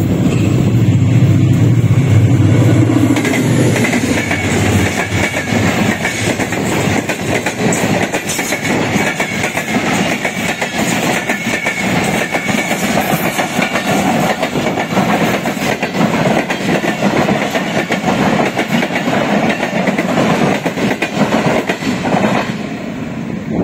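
A Pakistan Railways passenger train led by a diesel locomotive passes close by, a loud continuous roar with rhythmic clickety-clack of wheels over rail joints throughout.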